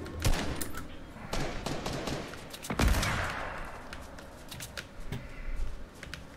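Rapid bursts of gunfire in Fortnite, a video game, crackle through the whole stretch in dense volleys with a heavier shot near the middle; near and fairly loud, with no voices over it.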